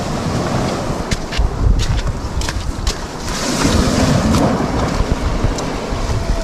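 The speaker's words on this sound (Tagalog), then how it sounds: "laki ng alon" Steady rushing surf and wind wash over the recording, with waves rolling in and swelling louder midway, close and unbroken.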